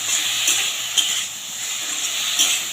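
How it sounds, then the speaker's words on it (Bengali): Spice paste with potato, tomato, salt and turmeric being sautéed in a pan for a spicy small-fish dish, a constant close sizzle with soft periodic stirring scrapes, no talking. "খুব ভালো করে এবার কষিয়ে নেবো"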